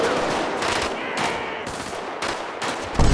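Rifle gunfire rings out in a shooter video game, a rapid run of sharp bursts and cracks fired close and loud, with background game noise throughout.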